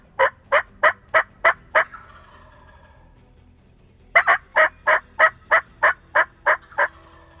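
A wild Illinois longbeard turkey calls in two loud, close bursts of rapid, evenly spaced notes, about six and then ten, separated by a few seconds of quiet.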